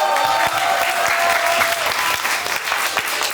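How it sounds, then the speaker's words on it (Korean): An audience at a youth camp breaks into loud, dense applause, many hands clapping close and steadily for a few seconds with a murmur of crowd noise and no speech. "박수!"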